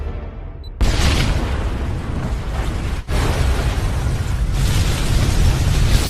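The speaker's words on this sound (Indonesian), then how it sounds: "Dia berlari dan seketika ledakan pun terjadi" Film explosion erupting suddenly with a heavy boom, followed by a sustained roaring rumble of blast and debris, with a brief dip and a second surge partway through.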